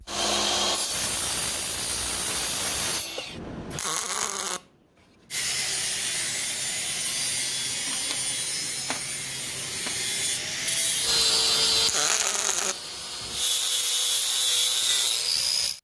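A saw grinds steadily through aluminum tubing for a jon boat, harsh and continuous, with a couple of brief pauses as the cut stops and restarts.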